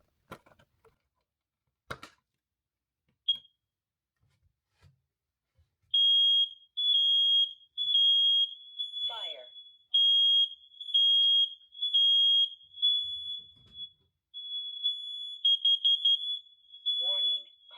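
A 10-year smoke and carbon monoxide detector runs its test, sounding a loud, piercing, steady high-pitched alarm in repeated bursts after some faint handling clicks, with other detectors joining and brief talk underneath.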